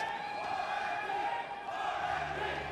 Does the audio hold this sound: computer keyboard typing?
no